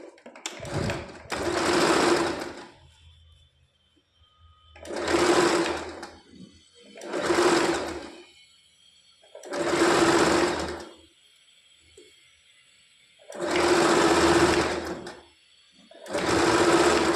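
A sewing machine stitches a blouse piece onto its lining in six bursts of rapid whirring, each lasting about a second or two and separated by short pauses, close and clear.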